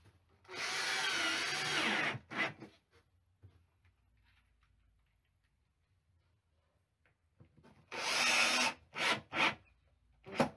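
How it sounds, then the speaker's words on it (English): A power drill drives screws to fix the final panel of a home-built vocal booth: a loud sustained whir up close, a pause, then another burst followed by several short bursts. "Need to screw it in now."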